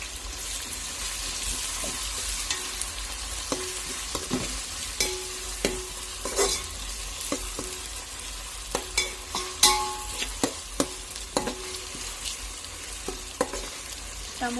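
Ginger garlic paste fries in a pan with a steady, close sizzle, punctuated by irregular clicks and scrapes of a spoon stirring against the metal; no voices.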